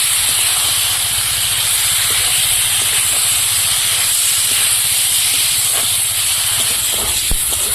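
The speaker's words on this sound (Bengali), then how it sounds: "ভালো করে আলুটা কষিয়ে নেব।" New potatoes frying in a pan with ginger paste, a loud, constant hissing sizzle close by with faint scraping near the end.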